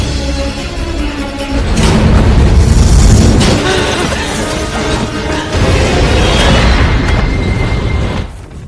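A bomb explodes in an alien film, a loud, deep rumbling blast that swells and lingers, followed by a second heavy surge of roaring debris before fading.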